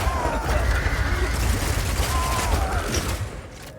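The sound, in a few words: crossbow rapid shots firing in video game Path of Exile 2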